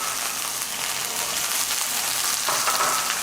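Fresh asparagus hitting a hot oiled sauté pan gives a steady, close sizzle and crackle, a dense even hiss that holds for a few seconds with a slight swell near the end.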